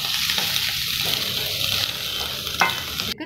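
Onion, garlic, tamarind, dried red chillies, coriander and jaggery sautéed in a hot pan, a continuous sizzle with spatula scrapes and a clear knock near the end, close and loud with no voices.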